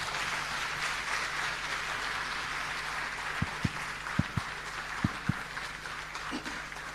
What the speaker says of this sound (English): I think that applause says that they have really understood and appreciate your contribution